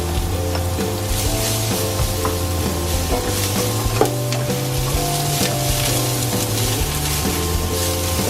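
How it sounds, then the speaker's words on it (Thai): Garlic and vegetables, including baby corn, stir-frying in hot oil in a home kitchen, a steady loud sizzle with scraping stirs and utensil clinks, no voices. "เรารอน้ำมันร้อนแป๊บนะคะแล้วเราก็เดี๋ยวเราจะใส่กระเทียมลงไป"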